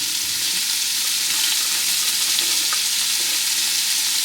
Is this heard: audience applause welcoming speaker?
no